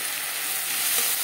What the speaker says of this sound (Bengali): মশলা ভেজে নেওয়া হয়ে গেছে।